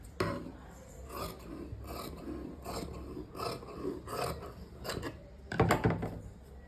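Fabric is cut for a crop top in a steady series of about nine close, crisp rasping cuts at a regular pace, with no talking.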